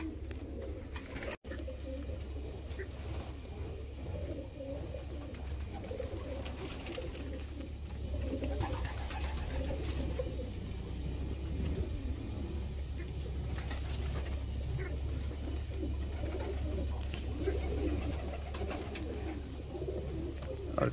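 A flock of pigeons sold as quality show birds coo softly and continuously in a loft, a low murmuring chorus with faint background rustle and no clear speech.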